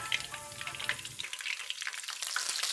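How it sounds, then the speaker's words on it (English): Whole spices frying in ghee in a large pot, giving a soft, steady crackling sizzle that stays fairly quiet throughout. "Fry them until fragrant"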